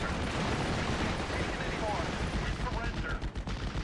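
Dense, continuous gunfire and battlefield rumble from the video game Steel Division: Normandy 44, loud and unbroken throughout, with a player talking over it.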